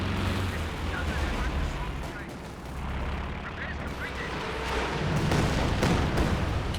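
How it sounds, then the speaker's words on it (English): A long-range Katyusha rocket artillery barrage in Company of Heroes 2: a dense, rumbling run of scattered explosions and booms, steady and loud, with a commentator talking over it. "Long range Katyusha, a lot of scatter, not hitting too much."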